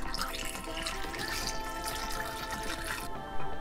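Cold water poured into a soup pot of chicken soup, a short continuous trickling splash heard up close, ending with a small clunk.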